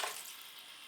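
Water being poured into a pot for chicken soup, a brief close rushing splash that fades within a second.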